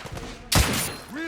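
Gunfire bursts in the video game The Order: 1886, a loud sudden volley erupting midway and ringing out over a short stretch, with voices calling out around it.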